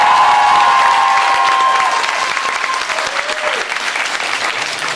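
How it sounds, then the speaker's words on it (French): Studio audience claps loudly and continuously to vote for a quiz show contestant, a dense wall of applause that eases slightly toward the end. "je vais demander au public de désigner le gagnant par des applaudissements"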